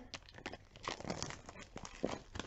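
Crinkling and tearing of packaging as a tarot deck box is unwrapped, the crisp rustles coming in quick irregular bursts, close and fairly quiet.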